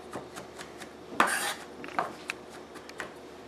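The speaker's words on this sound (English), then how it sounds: "mushrooms. I'm going to cut them up." A knife working through mushrooms on a board, coarse cuts for a rice dish: a few scattered clicks and scrapes, with one louder rasping stroke near the middle, fairly close and quiet, without talk.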